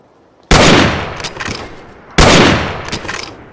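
Two loud gunshots from a Wild West video game, each a sharp blast followed by a ringing, decaying tail, spaced about a second and a half apart.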